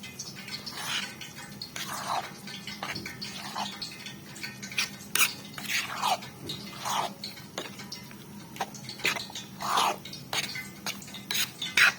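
A spoon stirs milk in a metal pot while a sweet dish is cooked, giving close, repeated scraping clinks and taps at an uneven pace over a low background hum.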